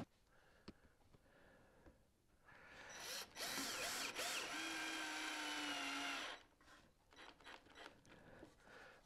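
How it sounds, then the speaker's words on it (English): A power drill bores into wood on a table saw sled, a loud steady whine rising and holding for about three seconds before stopping, with quieter workshop handling noises before and after. "I'm going to re-drill part of that."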